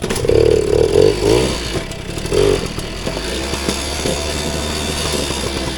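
A vintage Kawasaki KV75 mini bike engine revs hard in short bursts at close range, with the throttle blipped twice before dropping to a rough, clattering idle on a warm day, no voices.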